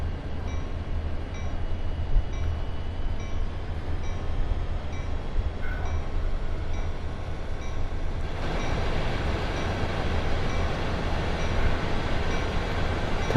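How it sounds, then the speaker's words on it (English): A freight train rumbles past in Train Sim World 2 on the Sand Patch Grade, a steady, continuous rolling roar with faint rhythmic clatter, loud and close throughout, a denser wash of noise building in the latter half, with no talk. "Oh look, there goes another train."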